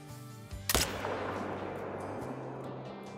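Single loud rifle shot fired at a bobcat roughly 200 yards away in the hunting game Call of the Wild, a sharp crack followed by a rolling echo and ambient game background.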